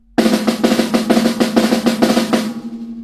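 Simple, powerful snare drum roll played several times in quick succession, a dense run of sharp close strokes ringing for about two seconds before decaying, with no voices.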